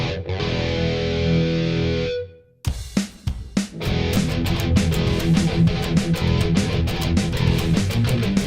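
A sustained distorted electric guitar chord with reverb rings out, breaks off, then returns as chugging, palm-muted riffing with a spacious, reverberant tail.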